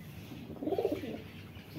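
A male pigeon, kept among pigeons offered for sale, gives a single soft, low coo that rises and fades in about a second against a quiet background.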